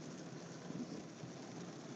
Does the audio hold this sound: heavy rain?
yes